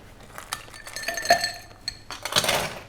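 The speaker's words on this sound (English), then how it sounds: "We're going to add some fresh cubes of ice." Fresh ice cubes dropped into a glass for a cider drink, a scattered run of bright clinks and chinks, then a denser clatter as more cubes tumble in at the end.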